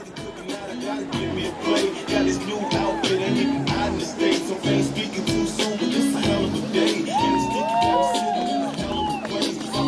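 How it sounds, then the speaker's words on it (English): Crowd cheering and applause in an equestrian arena as a rider makes his second run, a steady dense roar of voices with whistles and shouts rising throughout. "Keep that applause going."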